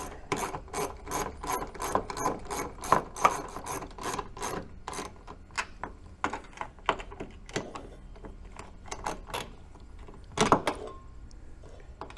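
A screwdriver tightens the mount of a pontoon boat swim ladder, giving close, steady ratcheting clicks in a quick repeating rhythm with brief pauses and no talking.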